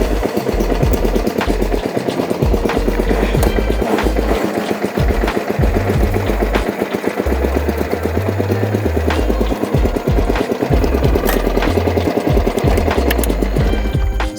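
A cheap secondhand riding lawn mower on a horse farm runs steadily with a loud, rattling engine chug, close and continuous for the whole stretch.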